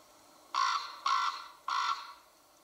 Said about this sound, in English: how this sound of the raven makes you feel